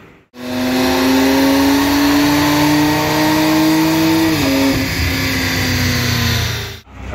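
A 2022 Genesis G70 Launch Edition with a JB4 tune on a dyno, engine loudly pulling through a sustained rising rev, a brief shift dip midway, then continuing before cutting off.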